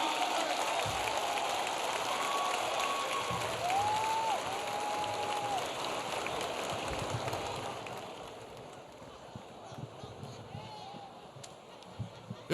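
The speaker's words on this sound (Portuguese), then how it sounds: "Uma salva de palmas forte a todo professor brasileiro." Audience at a Teachers' Day celebration with President Lula claps for Brazilian teachers, a broad wash of distant applause with a few faint whistles, fading after a while into scattered claps and room noise.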